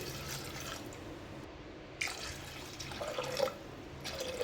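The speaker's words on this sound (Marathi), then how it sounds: "कुकरमध्ये आता पाणी टाकून घेते." Water being poured into a pressure cooker of soaked chickpeas in a home kitchen, a soft intermittent trickle and splash in short bursts, close and fairly quiet with no speech.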